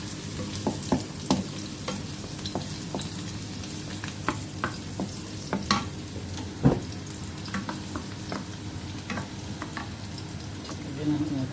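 Garlic fries in a pan for sardines and patola, with a steady close sizzle broken by irregular clicks and scrapes from stirring throughout.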